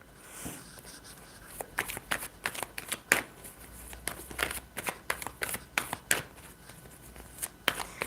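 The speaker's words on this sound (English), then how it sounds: "Then now I'm going to pull cards for this group Hori7on." Tarot cards being shuffled by hand close to the microphone, a run of crisp papery riffles and soft slaps in an irregular rhythm, fairly quiet with no talking.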